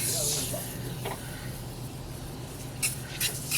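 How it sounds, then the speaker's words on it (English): Car wheel cleaner sprayed onto a wheel during detailing, a broad hissing burst at the start with a few shorter spritzes near the end, close and fairly steady. "So I'm going to spray it on this wheel and show you what it looks like."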